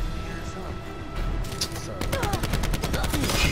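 Rapid bursts of gunfire from a Black Ops shooter video game crackle through the clip, building into a dense volley in the second half, with voices talking over the game sounds.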